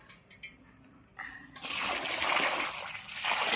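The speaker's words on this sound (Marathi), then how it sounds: "हे बघा असं याला पाणी टाकूया" Water poured from above onto a potted banana plant, starting after a quiet moment with a few soft drips, then a steady, close splashing and spattering onto leaves and soil that keeps going to the end.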